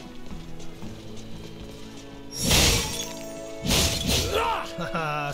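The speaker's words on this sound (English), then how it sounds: "Haha, smashing pots." Pots shatter in the video game Star Ocean: The Divine Force, two loud, close breaking crashes about a second apart over game music, with a brief voice.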